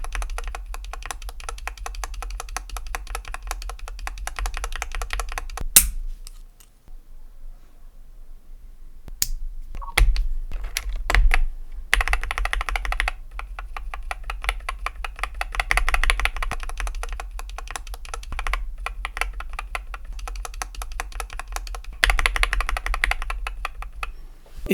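Typing on an IQUNIX L80 mechanical keyboard with lubed switches, 0.3mm switch films and ASA-profile keycaps: rapid, crisp, close-up keystroke clacks in a steady flurry, with a brief pause midway before typing resumes, and no talking.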